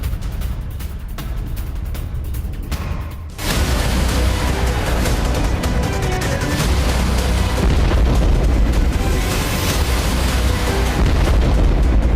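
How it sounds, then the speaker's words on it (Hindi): A truck bomb on a road in Iraq: a sudden heavy blast breaks in after a few seconds, followed by a loud, continuous roaring rumble that persists to the end. "सड़क पर चल रहा था ट्रक और अचानक से उसमें बम फट जाता है।"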